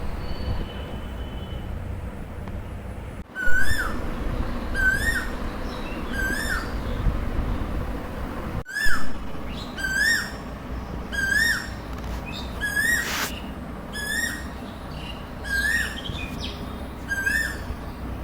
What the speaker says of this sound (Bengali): এখন আপনাদেরকে একটা পাখির ডাক শোনাবো দেখেন কি সুন্দর লাগছে পাখির ডাকটা